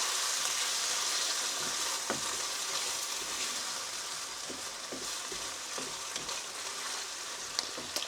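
Bolognese sauce sizzling and frying in a pan while a spoon stirs it, a steady quiet hiss with scattered soft scrapes and taps from the utensil, close by and without talk.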